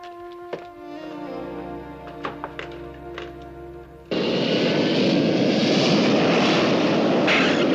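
Propeller-driven airplane in flight and landing: a steady droning engine tone with scattered thumps and taps, then a sudden louder broadband roar as it touches down and rolls.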